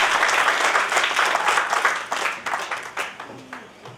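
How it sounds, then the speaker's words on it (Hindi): An audience applauds to welcome a guest speaker at a public event, steady dense clapping that thins and fades toward the end. "जोरदार कर्तव्य ध्वनि के साथ श्री मैंकेश्वर जी का स्वागत करें।"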